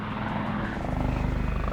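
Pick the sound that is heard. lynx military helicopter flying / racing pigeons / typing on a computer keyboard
lynx military helicopter flying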